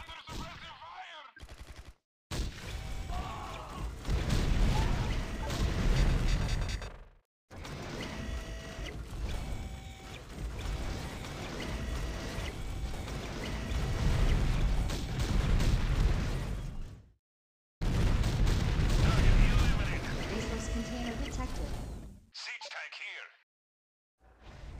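Bursts of gunfire and artillery blasts from an Art of War 3 skirmish on the Industrial Zone map, loud and dense, broken by short gaps, with radio-style unit voices talking over the battle.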